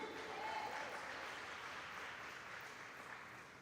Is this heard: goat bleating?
no